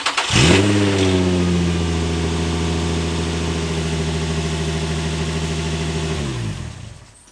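A Nissan 350Z engine cranks and catches after a spark plug change, then settles into a loud, steady idle for several seconds before shutting off.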